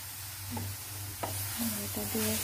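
Grated carrots for halwa are stirred in ghee in a pan, giving a soft, steady sizzle with a few scraping strokes of the spoon, faint and close, with no talking.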